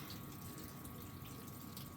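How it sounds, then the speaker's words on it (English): Water pours and splashes steadily out of a tipped-over onion plant pot, a continuous close, fairly loud gush with no talking. "we're going to dump this, tip it sideways and get some of that water out there"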